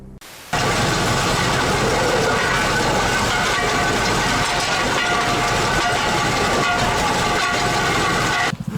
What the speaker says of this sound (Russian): Тепловоз идет.